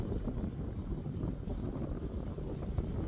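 Wind blowing outdoors on a cool, unseasonable morning: a steady low buffeting rumble across the microphone that holds at an even level throughout, with no other clear sounds.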